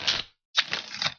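Tarot cards being shuffled: two short, dry riffling bursts, close and moderately loud, separated by a brief pause, with no voices.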